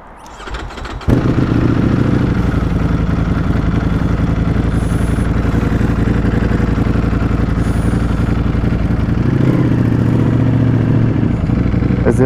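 A Ducati Panigale V4 S motorcycle engine rumbles loudly and continuously while riding a short distance, with a deep, steady booming roar and slight swells in revs.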